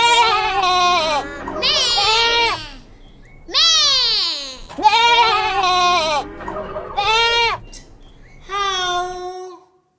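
A voice imitates a goat's bleat in a series of wavering, nasal calls with short pauses between them, loud and close, as part of a children's animal-sound game.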